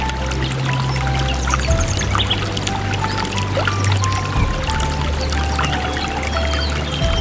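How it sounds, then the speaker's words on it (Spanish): A forest stream flows over stones in the United Kingdom woods, a steady, continuous watery rush that stays loud and even throughout, with no voices. "El arroyo nunca duerme. Murmura canciones continuas, hablando con las piedras"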